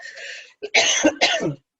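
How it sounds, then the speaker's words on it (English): Close, loud coughing: a rough throat-clearing rasp, then two harsh coughs in quick succession. "I'm sorry to cough right in everybody's ear."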